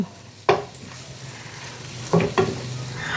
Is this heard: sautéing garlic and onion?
yes